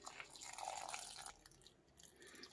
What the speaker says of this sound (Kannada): ಇದಕ್ಕೊಂದು ಸ್ವಲ್ಪ ನೀರು ಹಾಕ್ತಾ ಇದ್ದೀನಿ